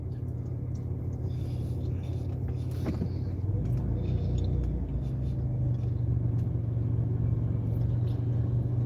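A car running low on gas rumbles along at a steady low drone, with a faint creak and a shift in engine tone midway, quietly heard with a voice in the cabin.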